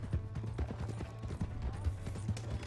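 Horse hooves clip-clopping in Red Dead Redemption 2, a steady trotting rhythm of moderately close hoof beats over low background sound.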